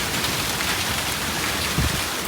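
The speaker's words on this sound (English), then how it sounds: "more rain is pouring down" Heavy rain pours down outdoors during a thunderstorm, a dense, loud, steady hiss of drops on surfaces with no talk.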